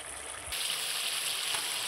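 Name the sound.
puti fish frying in oil in a pan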